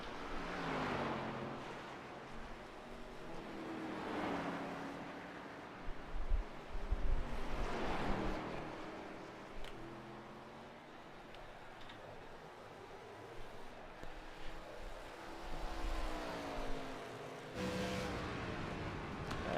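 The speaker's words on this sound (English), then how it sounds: "I believe that is Eric Gambrell's car noise" ARCA race car engines rise and fall in pitch as cars pass, with a whining drone at a distance over a low background rumble.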